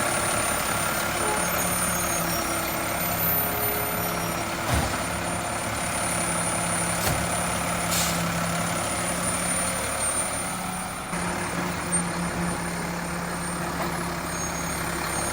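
A Mack LEU recycling garbage truck works nearby: a steady diesel engine drone runs throughout with its packer cycling, occasional sharp hisses and clanks, and faint repeating beeps.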